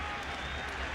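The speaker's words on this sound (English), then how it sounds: "And the crowd's getting into it" Baseball stadium crowd at a 2006 Detroit Tigers ALDS playoff game cheering and clapping, a steady, dense roar of many voices heard from a distance, with a commentator talking over it.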